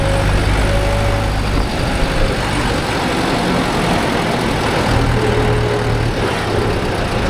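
A Mahindra 415 DI tractor engine runs steadily with a low, dense diesel rumble, loud and close, while the tractor works a 9-point cultivator in a field, with no speech over the constant drone.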